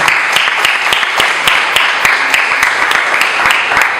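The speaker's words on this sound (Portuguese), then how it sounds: "Dá uma grande salva de palmas para o Senhor" A church congregation applauds loudly and continuously, many hands clapping together in a dense, even wash of sound.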